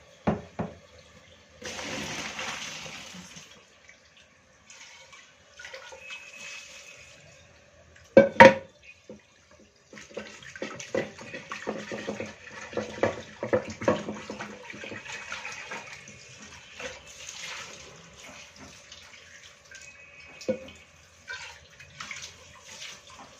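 Water from a pot of cooked pasta for Egyptian koshari is poured off into a sink, with bursts of splashing and trickling that come and go across the clip, a sharp clatter of the pot partway through.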